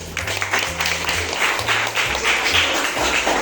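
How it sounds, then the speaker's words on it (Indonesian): Classroom group applauding a presenting group, a steady wash of clapping from many hands with some low voices and background murmur underneath. "Kasih tepuk tangan kelompok satunya."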